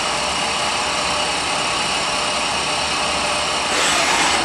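A KSI SQC20 CNC Swiss lathe runs its sub spindle and live tools through a motion program without cutting, giving a steady dense machine whir that jumps to a brighter, louder whine near the end.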